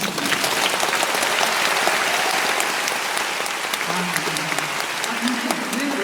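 A concert-hall audience at a classical opera commentary concert of Verdi and Puccini claps in a dense, steady roar for about six seconds, with a voice briefly rising over the ovation near the end.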